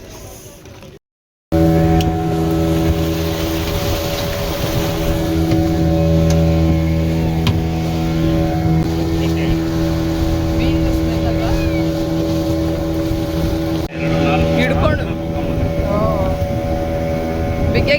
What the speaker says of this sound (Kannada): ನಮ್ಮ ಬೋಟ್ ಬಂತು.